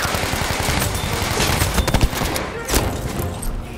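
An MP28 submachine gun fires in Battlefield 5, a dense, rapid stream of shots in sustained bursts, with game noise and a voice partly over it.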